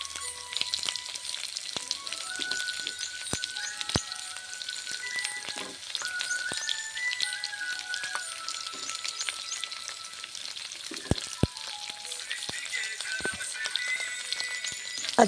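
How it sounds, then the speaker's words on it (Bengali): Chopped onions sizzle steadily in hot oil in a home kitchen for a pumpkin fry, with continuous crackling and occasional sharp pops and stirring clicks, close and alone without talk. "পেঁয়াজ কুচিগুলো ছেড়ে দিচ্ছি।"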